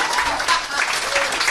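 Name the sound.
audience applauding at live podcast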